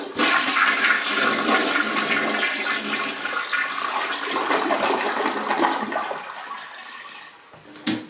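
A toilet flushes loudly and steadily, its tank water rushing out for several seconds before tapering off as the tank drains with the water supply shut off, ending in a faint clunk.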